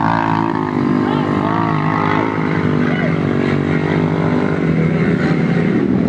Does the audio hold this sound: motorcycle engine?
yes